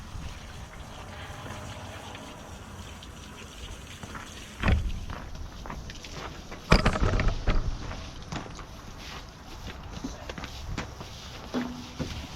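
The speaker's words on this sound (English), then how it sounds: "I just like to hose everything out." Steady hissing spray of water from a hose washing down excavator and mulcher machinery, with occasional louder bursts and clatter as the stream hits metal surfaces.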